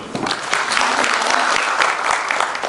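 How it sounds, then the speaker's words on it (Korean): Audience applause at a tech day corporate event in Korea, a dense steady wash of many hands clapping that fills the whole stretch at even loudness with no speech over it. "박수 한번 주시죠"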